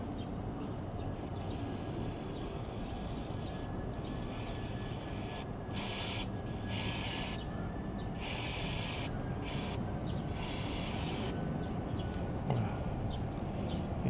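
Brake cleaner spray aimed at dusty brake pads, a steady hiss that runs the whole time and is cut by several short pauses and bursts as the nozzle is pressed and released, with faint workshop noise underneath.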